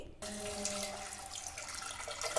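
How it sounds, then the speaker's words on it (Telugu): Running water pours steadily into a vessel to wash lentils, a soft continuous splashing with faint clinks, fairly quiet and without talk. "శుభ్రంగా వాష్ చేసుకోవాలి కొద్దిగా వాటర్ పోసి"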